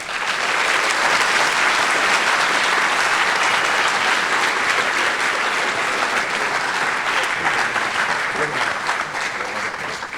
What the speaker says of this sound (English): let's give a round of applause and a heartfelt congratulations to the newest members of the Putnam Valley Athletics Hall of Fame